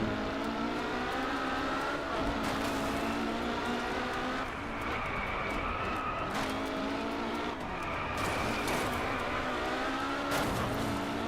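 Porsche race car in the Driveclub racing game, engine revving hard through gear shifts with tire squeal and skidding, loud and continuous with rising and falling pitch.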